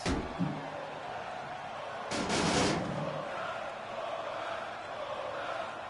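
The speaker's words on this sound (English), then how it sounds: "And listen to the crowd." A loud crowd roars steadily throughout in the wrestling video game WWE 2K16, with a sharp impact at the start and a brief louder swell of noise midway.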